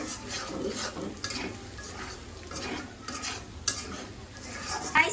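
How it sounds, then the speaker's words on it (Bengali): Spice paste is sautéed for a chicken roast, with soft stirring scrapes and a low sizzle in a pan and a few faint clinks. The sound is quiet and continuous, with no talking. "এই যে রোস্টের মুরগি ভাজা শেষ, মশলা কষানো হচ্ছে।"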